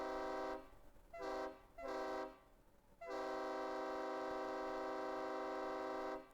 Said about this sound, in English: It's a train.